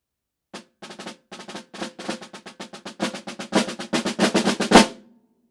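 A concert snare drum playing a second line pattern with flam taps, sharp close strokes in quick grouped rhythms that build steadily louder before a final accented hit and a short ring-out.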